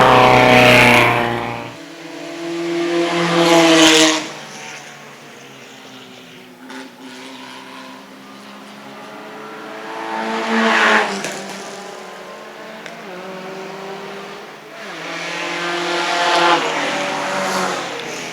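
Race cars at the Italian Marque race lap a 2.33-mile circuit, engines rising and falling in several loud passes punctuated by revving and gear changes, with one car roaring close early on before quieter stretches between passes.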